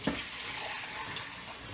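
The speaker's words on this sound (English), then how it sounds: "I generally just pour it in" Milk is poured in a steady stream into a pan of sausage gravy, giving an even, wet splashing rush that runs unbroken at close range.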